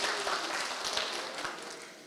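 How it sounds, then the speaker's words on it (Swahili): An audience applauds at a Maendeleo ya Wanawake Organization 70th anniversary celebration in the Eastern Region, with a brief burst of dense, fairly close clapping that fades slightly toward the end. "apigiwe makofi"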